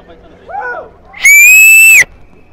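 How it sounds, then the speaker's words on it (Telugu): A loud human whistle rings out at Echo Point in Munnar, a single sustained piercing tone lasting under a second that ends abruptly, preceded by a faint short wavering call. "ఎకో పాయింట్ ఎందుకు అంటారంటే చూడండి, ఇప్పుడు నేను విజిల్ వేస్తాను"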